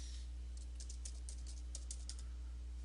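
Light clicking on a computer keyboard while a new image name is typed, a quick run of soft keystrokes over a steady low hum, faint and with no voices.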